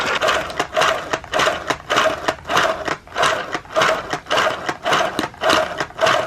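A handheld tufting gun punches yarn into a rug backing in a rapid mechanical buzz, loud and close, running in short bursts with brief pauses between them.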